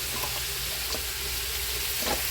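Herb and chili seasoning stir-fried with eel in a hot pan for a spicy Thai stir-fry, a steady close sizzle with faint scraping stirs and no talking.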